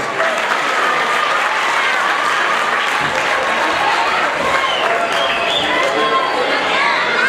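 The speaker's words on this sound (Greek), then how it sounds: "Ένα μεγάλο χειροκρότημα." A crowd at a Kozani club's pita-cutting and awards event breaks into loud, sustained applause, with a faint murmur of voices mixed into the continuous clapping.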